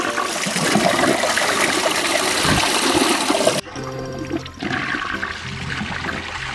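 A ceramic-coated toilet flushes nearby with a loud, steady rush of water that abruptly shifts partway through into a quieter gurgling drain and refill, with no voices.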